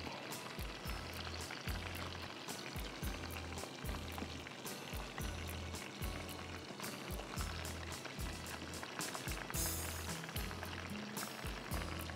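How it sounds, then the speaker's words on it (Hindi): Battered chicken wings frying in oil over a medium flame give a steady, loud crackle and sizzle that runs through the whole stretch with no talk. "फिर आप ये विंग्स उठाएंगे इस बैटर में डालेंगे और फ्राई करें"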